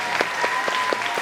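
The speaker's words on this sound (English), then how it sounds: "Let's give them a round of applause." Audience applause at a Korean heritage night event, a steady wash of clapping from a crowd with a few louder accents, sustained throughout the short stretch without any voices.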